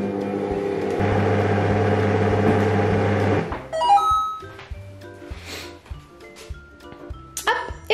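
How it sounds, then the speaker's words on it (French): A kitchen robot with its bowl locked whirs steadily for about three seconds while mixing cake batter for a rolled cake with sifted leavening, then stops, leaving scattered clicks, beeps and light clatter. "on va verrouiller le bol. Et on lance pour le mélange de 15 secondes"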